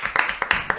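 A handful of scattered claps ring out briefly as a guest, Matías Bragañolo, arrives at a discussion about Borges; a short, sparse burst of hand claps rather than a full ovation.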